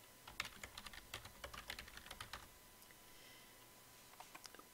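Keys tapped on a computer keyboard while entering text into a PowerPoint slide, a quick irregular burst of close, quiet clicks over about two seconds, then near silence with a few last taps.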